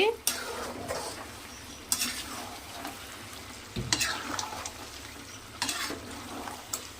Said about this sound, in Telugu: అడుగంటుకోకుండా అయితే తిప్పుకుంటూ ఉంటున్నామండి.